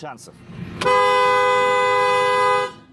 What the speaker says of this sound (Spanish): ¿No es demasiada bocina?